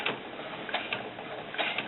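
A sewing machine runs in a steady, busy mechanical whir while trying to stitch shiny snakeskin fabric for doll boots, with faint ticks of the needle mechanism recurring throughout the brief, close, continuous sound.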